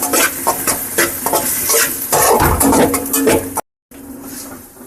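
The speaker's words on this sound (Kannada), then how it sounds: "ಚೆನ್ನಾಗಿ ಇದನ್ನು ಬಾಡಿಸ್ಕೊತೀನಿ ಚೆನ್ನಾಗಿ ಹಸಿ ಸ್ಮೆಲ್ ಹೋಗೋವರೆಗೆ ಇದನ್ನು ಚೆನ್ನಾಗಿ ಬಾಡಿಸ್ಕೋಬೇಕು" Chicken pepper dry masala with ginger garlic paste sizzles in a pan while being stirred, with close scraping and frying sounds that stop briefly before the sizzle resumes more quietly.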